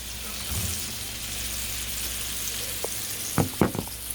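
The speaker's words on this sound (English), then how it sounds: "I love the sound of sizzling" Food sizzling in a pan in a home kitchen while a New York strip steak, asparagus and corn cook, a soft steady crackle with a few louder clatters near the end.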